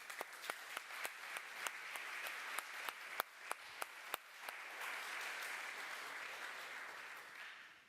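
A conference audience applauds, starting with a few distinct sharp claps that swell into steady, moderately distant applause before fading out.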